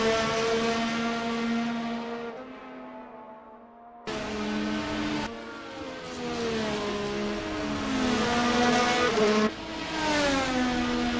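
Race cars roar past one after another at Suzuka during the Japan Grand Prix, their engines loud and close, with the pitch dropping as each car passes and cuts off sharply, and no talking over it.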